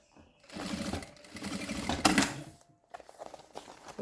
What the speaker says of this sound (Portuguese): vou passar uma costurinha na caixinha de leite